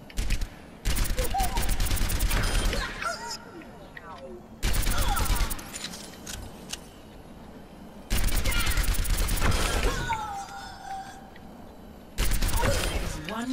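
In Overwatch weapon training, repeated bursts of rapid gunfire alternate with mechanical reloading clicks and quieter gaps. A voice speaks between the volleys.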